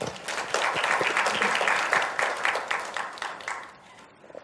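Forum audience applauding a presenter at a development cooperation event, brisk clapping from a seated crowd that swells quickly, holds, then tapers off near the end.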